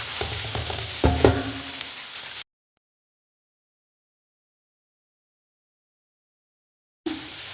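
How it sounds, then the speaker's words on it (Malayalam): Slit green chillies frying in a pan, with a couple of seconds of close sizzling and stirring clatter, then total silence, before the sizzle briefly returns at the end. "അത് ഇട്ട് കൊടുത്ത് നല്ലോണം ഇളക്കുക."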